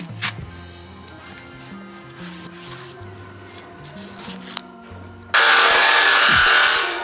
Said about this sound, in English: I'm going to grab the jigsaw and very carefully come through here and trim out in between